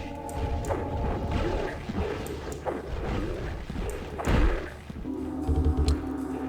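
Cleric's final weapon in Hexen tearing through a group of centaurs: dense, overlapping crashes and heavy thuds with swooshing bursts, loud and continuous, with a big impact near the end.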